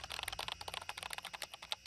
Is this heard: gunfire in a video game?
no